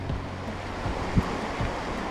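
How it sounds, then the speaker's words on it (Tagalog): Waves washing in at a river mouth near St. Lucia, Mauban, Quezon, heard as a steady broadband surf wash with soft low thumps and a mild wind rumble, no voices. "Ganda ng alon dito."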